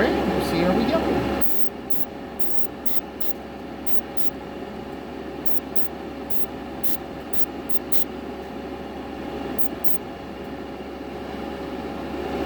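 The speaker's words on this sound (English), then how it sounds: "now we're going to attempt to just spray it over the bare plastic" Steady spray hiss of chrome paint applied over a bare plastic front bumper, broad and continuous for about twelve seconds, with short clicks or taps repeating above it.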